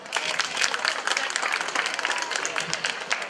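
Audience applause at an interethnic festival performance by an Aromanian ensemble in Tulcea, dense and continuous clapping from a crowd, with some voices mixed in throughout.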